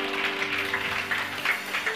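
Congregation clapping hands together during a church service, a dense, steady patter of many claps filling the whole stretch, with a sustained organ-like tone underneath.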